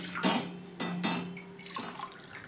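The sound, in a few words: water poured into cooking pot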